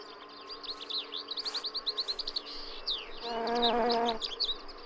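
Insects buzz around spring flowers in sunny Spanish countryside, soft near drones rising and falling. Bright birdsong chirps and trills run over the top.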